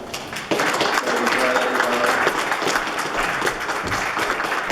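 Audience applause breaks out at a planning committee meeting on residents' concerns over a four-unit dwelling, a steady dense clapping that starts abruptly and holds loud, with faint voices mixed in.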